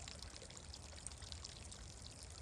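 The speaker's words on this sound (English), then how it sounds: "giving me a super nice creek sound from very little water" A small forest creek in Colorado trickles over placed rocks and splashes into a little puddle, a soft continuous babbling and pouring with fine close detail, heard alone.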